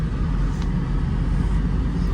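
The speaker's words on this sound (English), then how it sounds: "This stays in first gear. It will not shift in the second." A Mercedes SL500 stuck in first gear drives along, its engine a steady low hum under continuous road and tire noise, held at constant pitch without any shift.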